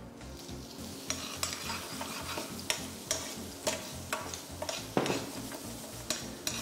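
Cuttlefish cooking in a hot pan for a black-ink risotto, a steady sizzle broken by repeated sharp scrapes and taps of a utensil stirring against the pan.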